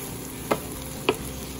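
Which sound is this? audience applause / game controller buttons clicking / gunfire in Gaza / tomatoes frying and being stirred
tomatoes frying and being stirred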